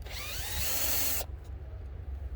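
A power drill backs screws out of the ties on a minimal gauge railroad track. It gives one loud, high whine for about a second, then cuts off, leaving faint clicks and outdoor background.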